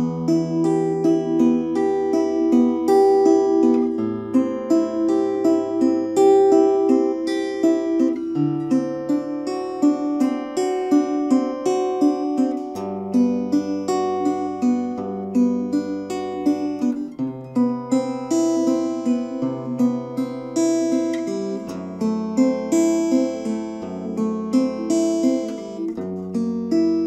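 Fingerstyle acoustic guitar plays the STALKER theme from the beginning, a steady flow of plucked arpeggiated notes over changing low bass notes, close and even with no talking.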